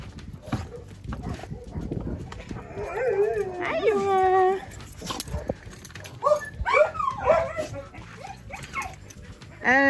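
A boarding dog barks and whimpers in short, uneven bursts at close range, with high yelps and whines between barks, while a person talks nearby.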